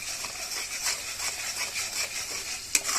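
A spice paste with turmeric, salt, ginger, garlic and onion is stirred and sautéed in a pan, giving a soft steady sizzle with intermittent scraping strokes and one sharper clink near the end.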